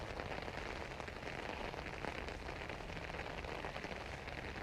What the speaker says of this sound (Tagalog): Kami nga lang ay inabutan ng ulan.